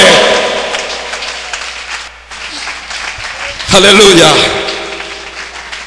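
Congregation clapping loudly at an evangelical church service, a sustained wash of applause with shouts over it that swells louder toward the end while voices carry on.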